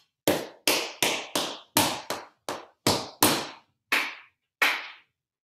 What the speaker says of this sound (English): Shuffle toe heel down, other foot, heel, heel, toe, toe, clap, clap.